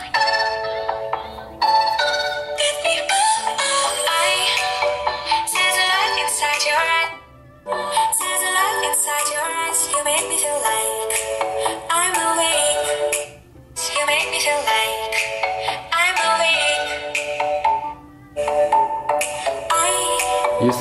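Music blasting from a Xiaomi Redmi Note 5A phone's built-in speaker at maximum volume, loud and continuous with brief dips between phrases, bright tinny tone and no talking over it.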